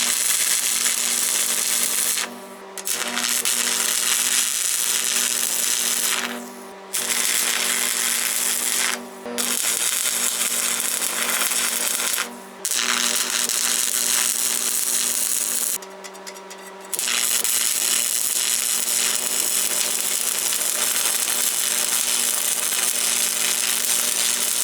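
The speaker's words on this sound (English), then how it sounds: "we're ready to tack it on and weld it." A Lincoln stick welder welding a wedge onto a wood splitter, giving a steady loud crackling buzz that runs for long stretches, broken by several brief pauses between welding runs.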